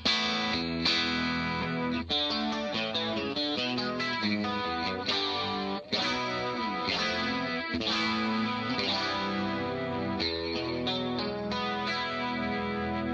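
An Ibanez Fireman Paul Gilbert electric guitar plays chords and runs, its tone heavily processed with distortion and chorus, shifting between cleaner and gnarlier textures.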